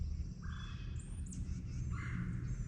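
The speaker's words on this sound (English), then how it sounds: "the birds are definitely up this morning" Birds call around a morning campsite with a few clear, close chirps and caws standing over a steady low rumble of background noise, and nobody speaks.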